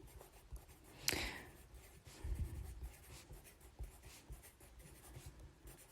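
Pen or pencil writing by hand on paper, numbers of a skip-counting sequence for a division lesson, a soft tap followed by quiet scratchy strokes, close and faint.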